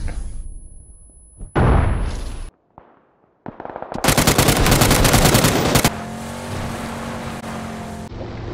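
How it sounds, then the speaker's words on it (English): Grenade blasts and gunfire in the PUBG battle game: heavy booming explosions break through short gaps of quiet, then a loud, rapid stream of automatic fire rattles on, close and dominant. "Oh, throwing grenades in."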